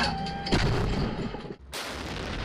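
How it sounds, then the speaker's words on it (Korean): K9 self-propelled howitzer of the marines firing during live-fire training on Baengnyeong Island, one loud booming blast with a long rumbling tail, then a sudden cut to another roaring shot. "K9 자주포가 불을 뿜습니다."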